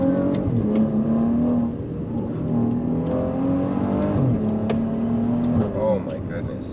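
A 2017 Maserati Levante S engine hums and revs steadily with a rising, sustained note close by, swelling briefly near the end.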